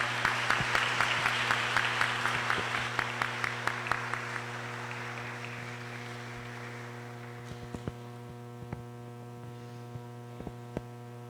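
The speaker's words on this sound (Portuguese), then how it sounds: "peço uma salva de palmas." A church congregation at a Sunday Mass applauds the sisters, rhythmic clapping that starts fairly clear and fades over several seconds into scattered claps, all over a steady electrical hum from the sound system.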